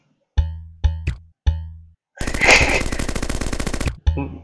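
Gunfire in a video game: three heavy single shots with ringing tails, then a loud, rapid machine-gun burst of about two seconds, followed by one more shot, all close and punchy with no talking.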